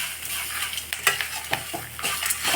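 Grated coconut stirred in a pan with the stove switched off while making a thuvaiyal, giving soft, close scraping strokes and faint sizzles alone.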